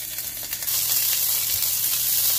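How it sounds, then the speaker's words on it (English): Onions frying in butter and oil with ginger garlic paste for chicken tikka masala, a close, steady sizzle that jumps louder and stays hissing after the paste hits the pan. "Onions, fry. Ginger garlic paste."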